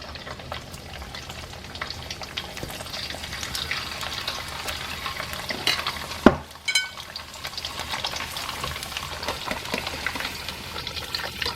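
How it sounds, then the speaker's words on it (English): Thin strips of sweet Lao beef jerky fry in vegetable oil with a steady, crackling sizzle that fills the whole stretch, broken by a sharp clatter near the middle as the pieces are stirred. "The beef jerky is cooked very fast because they're so thin."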